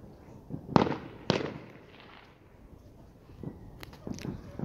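Two sharp firework bangs go off in quick succession during a Fourth of July night, then fainter pops and crackles follow farther away, with shuffling movement in between.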